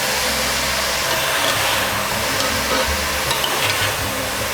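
Basmati rice and shredded cabbage fry in oil in a pan while being stirred, making a continuous close sizzle with scraping and rattling stir sounds and no speech.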